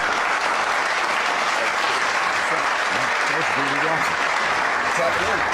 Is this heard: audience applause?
yes